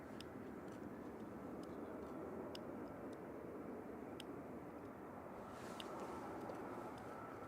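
A jet engine roars steadily at Manchester Airport, a broad, constant rumble lasting throughout, moderately distant, with faint clicks and a slight swell near the end.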